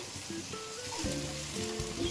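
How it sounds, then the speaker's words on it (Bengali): Pasta being slowly stirred in a frying pan for an evening snack, a soft sizzle of frying running steadily beneath occasional scraping strokes of the spoon, close and moderately loud. "এটাকে আস্তে আস্তে নাড়বো"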